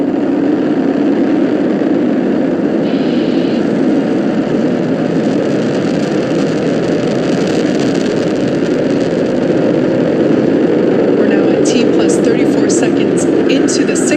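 Roaring rumble of a SpaceX Falcon 9 rocket lifting off on nine Merlin 1D first-stage engines, a dense, steady broadband roar held throughout, with radio-style voices talking over it.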